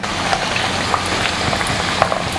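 Potatoes frying in hot oil for a Chinese-style mie selat dish, giving a steady dense sizzle and crackle with small pops throughout.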